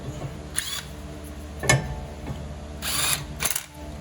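Short bursts from a power tool driving the brake rotor screws on a 2012 Honda Pilot, about four quick whirring zaps spaced over a few seconds, close and clear.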